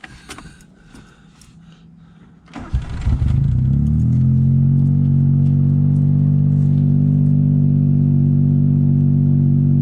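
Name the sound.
car engine running and idling roughly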